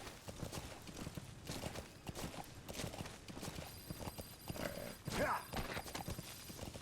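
Horse hooves clip-clop in a steady rhythm in Metal Gear Solid V: The Phantom Pain, with a brief whinny near the end, all fairly quiet, while a person talks over it.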